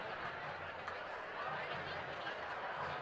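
A packed crowd fills the lower sections of Houchins L.T. Smith Stadium before a university spring commencement, a dense, faint wash of chatter and scattered laughter continuing without pause.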